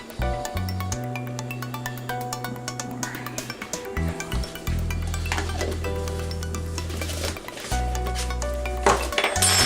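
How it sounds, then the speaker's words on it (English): Brilliant blue mica being stirred by hand into cold process soap batter, with close clinking and scraping of a utensil against a container and some knocks, sounding alone without talk. "rather than stick blend these in, I'm actually going to mix them in by hand"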